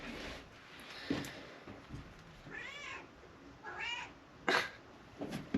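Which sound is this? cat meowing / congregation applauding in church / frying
cat meowing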